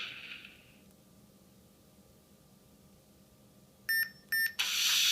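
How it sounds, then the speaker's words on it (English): After a quiet stretch, two short electronic beeps sound close together from a Han Solo DL-44 blaster prop fitted with a Blaster Core 4.0 sound board, followed by a loud burst of harsh static noise. "once you hear that first beep, you then hit the button again"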